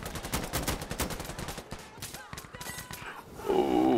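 Close bursts of rapid gunfire in the shooter game Insurgency Sandstorm, dense shots in the first half thinning into scattered reports, with a voice shouting near the end.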